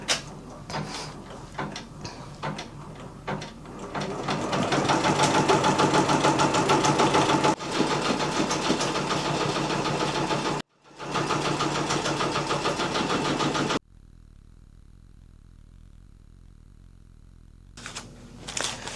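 An embroidery machine stitches an appliqué design for a tote bag, giving off a steady rapid mechanical chatter for most of the stretch before it stops and goes nearly quiet.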